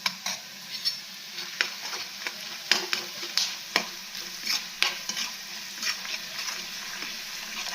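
Spices with turmeric, chilli and coriander-cumin powder sauté for sabudana khichdi, giving a steady sizzle broken by frequent sharp scraping stir strokes, close and moderately loud with no talk.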